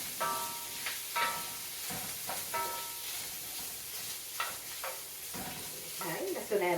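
Kielbasa sizzles in a frying pan, with a steady close frying hiss broken by repeated scraping clatters as the pieces are stirred and tossed around.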